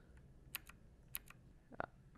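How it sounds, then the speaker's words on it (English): A few sparse clicks of a new mechanical computer keyboard being typed on, with isolated sharp keystrokes spaced out and a louder clack near the end, faint and close. "I just wanted to say I'm sorry if you can hear my keyboard in the background."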